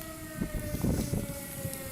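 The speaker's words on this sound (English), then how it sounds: "siren's been going off for about 15 minutes now" A steady, droning siren wails in the distance in South Dakota beneath low rumbling and muffled thumps, faint but continuous throughout.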